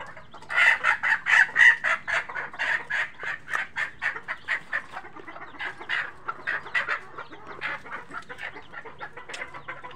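Chickens cluck and call continuously in a roomy coop with young chicks and larger birds, a dense, close chorus of rhythmic clucks with a brief crowing note near the start and no talking.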